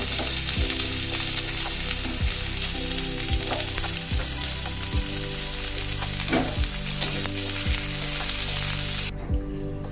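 Finely chopped onion fries in a pan with dried red chilli and nigella seeds, producing a constant loud sizzle over a low hum, with periodic stirring clicks and a sudden drop in the hiss near the end.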